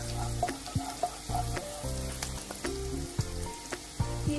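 Onion and garlic sautéing in a pan, bubbling sizzle punctuated by frequent clacks and scrapes of stirring, close by, no speech.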